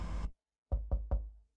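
Three firm, evenly spaced knocks on a door in a horror video game, close and loud, following a brief burst of other noise that cuts off into silence.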